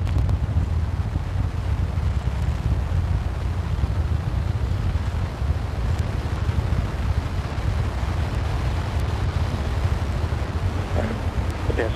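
The NASA SLS megarocket's engines fire during a hot-fire test, making a loud, continuous broadband roar with a deep rumble that stays steady for the whole stretch.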